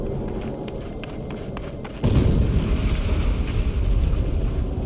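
An explosion in the video game Horizon Zero Dawn bursts in suddenly and leaves a loud, sustained, heavy rumble that fills the rest of the moment.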